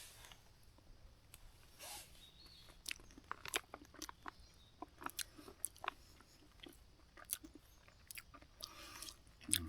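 Someone eating breakfast outdoors on a solo trip, with soft close crunches and bites scattered irregularly over a quiet background.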